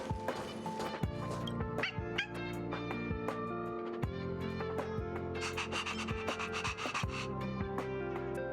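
Peppy, a dog in the Honkai: Star Rail video game, gives several short yips and barks over a steady bed of game music, with brief scratchy rubbing sounds between them.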